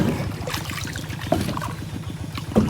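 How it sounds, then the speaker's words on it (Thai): A rowboat is paddled across water, with a rhythmic run of close, repeated splashes and sloshing strokes and a few louder dips between them. "พี่เตยพายด้วยวันนี้"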